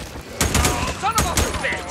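Gunfire in the Days Gone video game on PS5: several sharp, loud shots burst out in quick succession over about two seconds, with people talking excitedly between and under the blasts.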